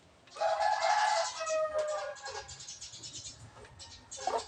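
A rooster sick with coryza crows loudly up close, followed by a series of softer clucks and scratchy farmyard sounds.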